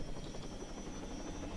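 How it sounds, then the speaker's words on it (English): Helicopter rotors spin up in the Arma II video game, a steady, dense whirring drone with a low rhythmic thrum that stays constant throughout and has no talk over it. "I just launched the rotors up"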